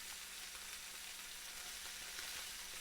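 Sushi-grade tuna steak sears in a hot pan, a steady, even sizzle of fat and moisture that holds close and constant throughout with no talking.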